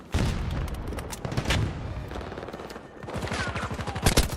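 Video game battle against Russian forces: a grenade blast and bursts of rapid automatic gunfire, loud and close, with rattling volleys continuing throughout.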